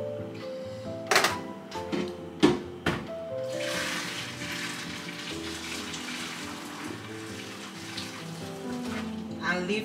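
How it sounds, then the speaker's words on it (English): Water is poured off a pot of boiling yam, a steady splashing stream that starts partway through after a few knocks and clatters, with talking heard nearby. "We are going to pour out some water from the yam."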